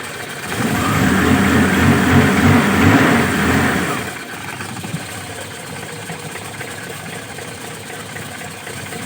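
A car engine fitted with a newly installed TCI pulser revs loudly for a few seconds, then falls back to a steadier, quieter idle rumble that runs to the end.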